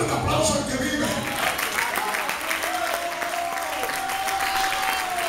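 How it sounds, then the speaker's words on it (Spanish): Church congregation applauding, a dense wash of clapping that is strongest at the start and continues under a sustained sung or spoken voice, heard from within the crowd. "Dale un aplauso al que vive."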